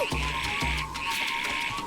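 Frogs croak in the video game The Legend of Zelda: Echoes of Wisdom, two low, close croaks in quick succession over a steady bright electronic hum and game ambience, with no talking.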